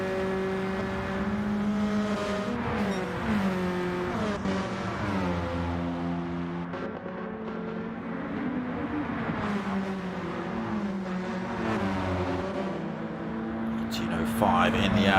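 Race cars, VW Sciroccos and Suzuki Swifts, driving up the hill at Mount Panorama, engines droning and shifting pitch as they climb, steady and continuous under a commentator talking throughout.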